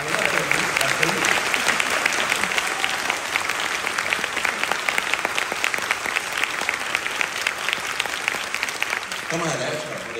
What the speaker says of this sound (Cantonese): 所以請大家俾啲掌聲，我哋嘅編劇同埋我哋嘅導演。